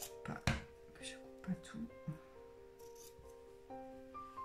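Scissors cut through dress fabric in a few quiet, crisp snips during sewing, faint and close, with soft handling noises and a voice speaking around them.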